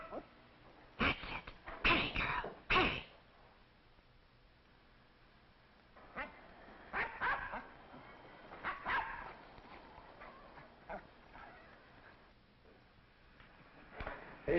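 A dog barks and yips in short bursts, close and fairly loud, with a cat nearby in an old film scene. A few sharp barks open the clip and scattered quieter yelps follow.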